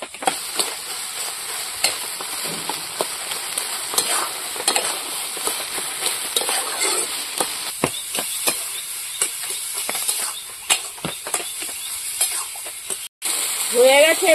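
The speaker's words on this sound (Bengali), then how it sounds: "কচু শাকটা যত ভালো ঘাটা যাবে তত স্বাদ হবে ভালো।" Taro leaf curry with hilsa fish head stirred in a pan, a steady sizzle under repeated scraping and clinking strokes of a spoon against the pot, close and continuous with a brief break near the end.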